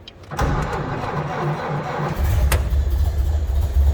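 A 1930 Ford Model A Tudor sedan starts up: a brief starter crank quickly catches into a loud, steady idle, then the engine note deepens into a low rumble after a sharp click.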